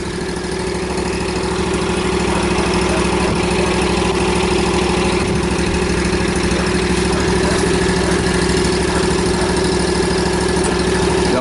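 Small lawn mower engine idling steadily before yard work, a constant mid-pitched drone with a low hum and faint vibration, running close and unchanged for the whole stretch with no talking.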